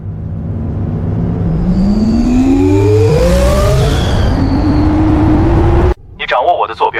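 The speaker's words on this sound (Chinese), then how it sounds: "启动驱旅引擎，进入返航通道。" A spaceship engine starting up as a sound effect rumbles loudly and whines upward in rising sweeps, swelling toward a peak before cutting off, then a voice speaks.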